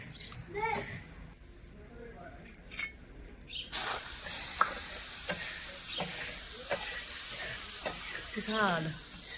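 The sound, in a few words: roasting chickpeas in a pan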